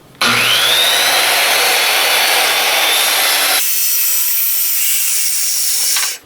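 A circular saw running on a guide rail cuts through a wood panel, a loud steady whine with a grinding rasp that drops to a thinner, higher tone partway through before the motor winds down.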